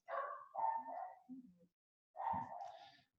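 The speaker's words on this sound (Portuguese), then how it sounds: "É aqui na minha casa esses cachorros" Dogs barking at home: a cluster of three quick barks followed by a longer, rougher bark, all moderately close and somewhat quiet, with no talking.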